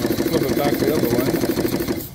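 A small steam engine runs on steam at about 200 RPM, giving a fast, even mechanical clatter and chuff close by, with a voice faintly underneath.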